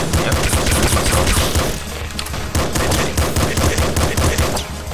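Rapid gunfire in the top-down shooter game Nuclear Throne, a loud, dense barrage of shots and impacts with a brief thinning midway before resuming.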